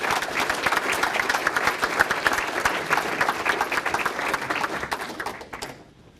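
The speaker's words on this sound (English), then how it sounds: "Let's give another round of applause for the Behind the Scenes Award recipient." An audience at a volunteer award ceremony breaks into lively, dense applause, many hands clapping together at full strength before tapering off and fading out quickly near the end.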